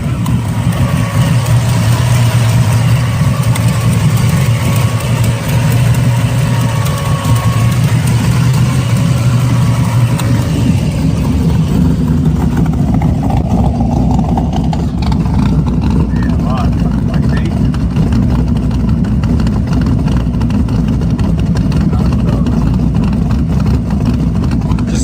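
A 1972 Chevrolet Chevelle with a 383 stroker engine and T56 transmission runs with a loud, steady low exhaust rumble that continues for the whole stretch, with people talking over it.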